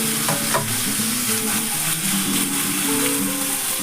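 Chicken curry with tomato is stirred in a frying pan, a loud, steady sizzle under scraping spoon strokes, with no talk.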